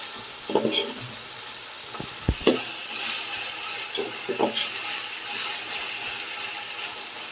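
Ginger paste frying with already fried onions in a pan gives a low steady sizzle, broken by several sharp clacks and scrapes of a spoon against the pan.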